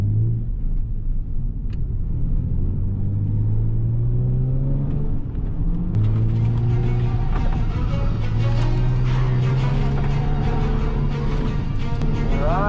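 A car drives hard on a drift track in Japan, its engine droning loud and close with rising and falling revs and repeated gear changes, over a steady road rumble.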